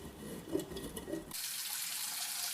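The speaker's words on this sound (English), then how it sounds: "rinse it under some cold running water" Cold tap water runs into a kitchen sink for rinsing parsley, beginning partway through as a steady, soft hiss that continues to the end.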